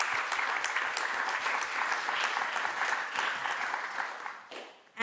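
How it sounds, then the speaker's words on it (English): A conference audience applauds a tech policy panel with dense, steady clapping that holds for about five seconds and then fades out abruptly. "If everyone can give them a round of applause."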